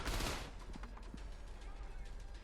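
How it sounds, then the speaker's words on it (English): A rapid, sharp burst of gunfire rings out in the shooter video game Tangerine, with a loud crack at the start followed by quicker, quieter shots, and a player talks over it. "the amount of gunfire you can spit out"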